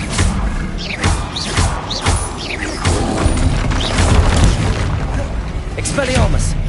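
Heavy booming blasts from the Confringo blasting curse in Hogwarts Legacy crash repeatedly amid spell-casting combat, loud and dense, with whooshing magic effects layered between the impacts.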